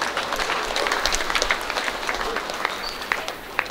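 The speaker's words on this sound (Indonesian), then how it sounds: "tepuk tangan untuk orang tua kalian semua." Graduates and guests at a university graduation ceremony applaud their parents, a dense wash of many hands clapping steadily in a large hall, with a few sharper individual claps standing out near the end.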